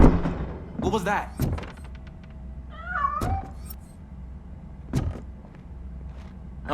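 A cat meows several times, close by, with short rising and falling cries mixed with dull door thunks and clicks.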